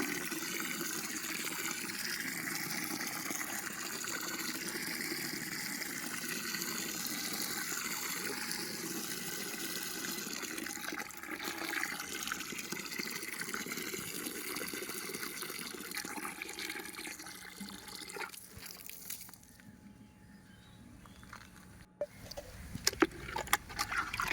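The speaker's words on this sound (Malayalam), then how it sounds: "ഞാൻ അതിനകത്തേക്ക് ഇരട്ടി വെള്ളം ഒഴിക്കുകയാണ്" Water pours steadily into a container for a long stretch, then tapers off, followed by a few clunks and knocks.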